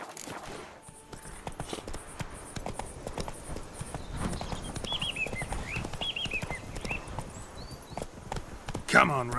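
Hooves of the horse Roach clip-clop steadily in The Witcher 3, a rhythmic trotting patter under a voice talking.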